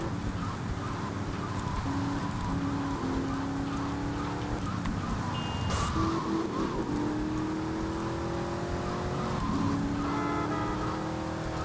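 A car driven through the streets of the GTA Vice City video game, its engine humming steadily with gear-shift pitch rises and a brief higher whine midway, continuous and moderately loud with no talking.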